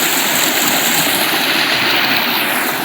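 A stream flows among dense bushes and shrubs, giving a loud, close, unbroken rush of water that stays steady throughout with no talking.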